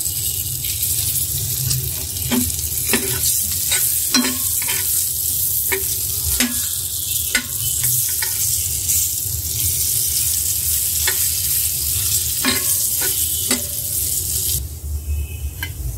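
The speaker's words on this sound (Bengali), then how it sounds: "পেঁয়াজটা ভেজে নিয়েছি" Onions frying in hot oil in a pan, a loud steady sizzle broken by repeated scraping and clinking as a spatula stirs them, close up, with the hiss fading slightly near the end.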